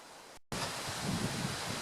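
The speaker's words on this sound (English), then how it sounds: "boy, it's a windy day today" Steady broadband wind roar buffeting close by outside in front of a shed on a windy day, after a brief silent gap at the start.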